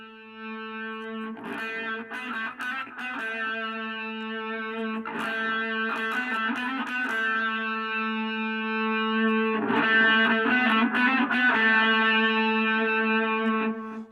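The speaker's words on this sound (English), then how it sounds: "once the distortion is engaged, it's a little quieter all around" An electric guitar plays through a small Caline Lorcan amp with its distortion circuit engaged, giving steady sustained distorted chords broken by brief strummed bursts, at moderate level with no voices.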